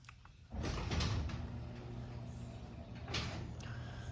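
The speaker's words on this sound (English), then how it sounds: "And we will run the LiftMaster door again." A LiftMaster 8355 garage door opener drives its door, giving a steady low mechanical hum and rumble that begins abruptly and carries on evenly, with a few faint rattles and clicks on top; no one speaks.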